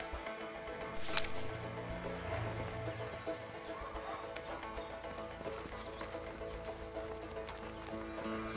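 Several horses gallop in the video game A Way Out, with a steady, rhythmic clatter of hooves running continuously and fairly close, with a few light metallic clinks mixed in.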